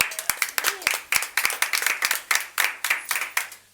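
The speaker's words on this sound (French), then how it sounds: "On applaudit Carole." A small group claps for a woman at a restaurant gathering, crisp individual hand claps rattling in a quick, uneven rhythm for several seconds, close and fairly loud with no talk over it.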